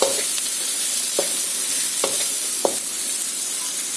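Tricolour capsicum being stirred and sautéed in a pan while cooking baby corn Manchurian, a steady sizzle with a few sharp clinks of a spatula against the pan at irregular intervals, close and alone.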